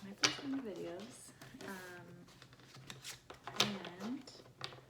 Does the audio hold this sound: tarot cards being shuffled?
yes